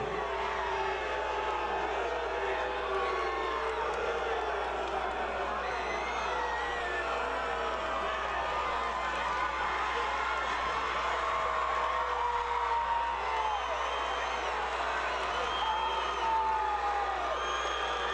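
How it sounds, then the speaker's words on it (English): A distant, steady crowd murmur and cheering rise from the stands at a high school football game, with scattered whoops blending into a continuous wash of voices. "Those wearing the black and red seem to be cheering, but those in the white and red, not quite as happy"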